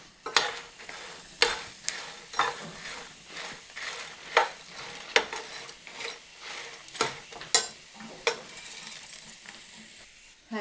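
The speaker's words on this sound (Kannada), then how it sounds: "ಸ್ವಲ್ಪ ಮೆಂತ್ಯ ಹಾಗೂ ಸಾಸಿವೆನ ಒಟ್ಟು ಸೇರಿಸಿ ಮತ್ತೆ ಹುರ್ಕೊಳ್ಳೋಣ" Fenugreek and mustard seeds stir-fry in a pan for a mushroom curry with a soft, steady sizzle, broken by regular sharp scrapes and clinks of a spatula against the metal about once a second, close up with no talking.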